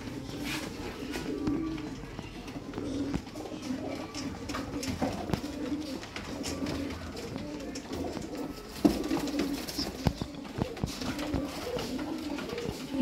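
Sialkoti pigeons coo steadily in a loft, soft throaty calls repeating in overlapping waves close to the microphone, with occasional clatter and faint background noise.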